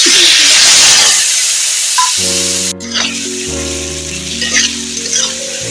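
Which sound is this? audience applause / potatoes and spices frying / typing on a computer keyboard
potatoes and spices frying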